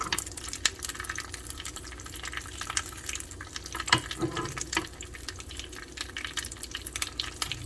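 Corn grilling in butter in a pan gives a soft, steady sizzle scattered with small crackles and pops, faint and close, with no talking.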